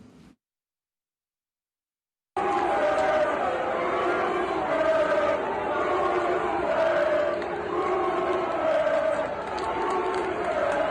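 Rowdy fans roar in the stands at a playoff baseball game, a loud sustained crowd of chanting and cheering that swells and continues after a brief silence.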